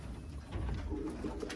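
Birmingham Roller pigeons coo softly in low, throaty bursts, close by, with light rustling and no talking.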